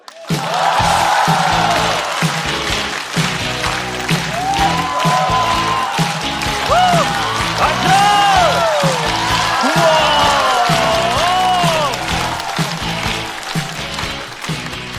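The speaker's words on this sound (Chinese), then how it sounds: "让我们掌声欢迎" A comedy club audience at a stand-up show applauds steadily to welcome a new comedian on stage, with cheers and whoops over continuous clapping that holds for about fifteen seconds.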